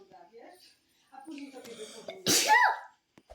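After brief talk, a sharp, loud sneeze bursts out from a person close by, followed by a short voiced trailing sound.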